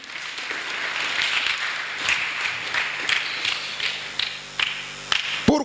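A church congregation applauding, with a steady patter of clapping and scattered louder claps held at moderate level throughout.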